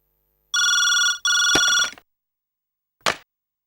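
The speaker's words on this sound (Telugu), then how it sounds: "ఏమండి, ఫోన్ లిఫ్ట్ చేయండి." A telephone rings with two long electronic bursts of steady tones, then a brief louder chirp after a pause, heard clearly with no talking over it.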